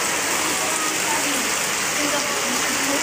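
Steady rain pours down in a dense, even hiss that fills the whole stretch, with no gaps or distinct drops standing out.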